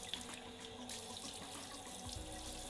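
A Finnish bidet shower hose sprays water in a bathroom, a faint steady hiss of running water with slight shifts in tone, quiet and alone.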